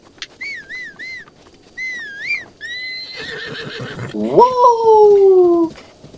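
A horse in the video game Zelda: Breath of the Wild neighs and whinnies in several wavering, high-pitched calls, followed by a longer, louder whinny near the end.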